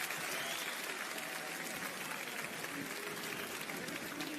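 Spectators at a combat fight event applaud steadily, a dense, continuous wash of clapping that fills the space for a few seconds with a faint murmur of crowd voices underneath.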